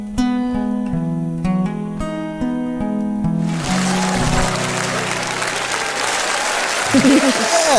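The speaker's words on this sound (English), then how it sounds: "And the crowd goes wild" A studio audience bursts into applause at an anniversary show, a dense, loud clapping wash rising after a stretch of music, with voices joining near the end.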